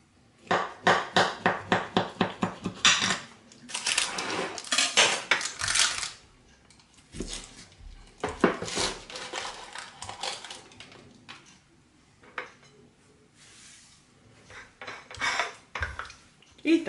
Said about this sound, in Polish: Kroimy kawałeczek.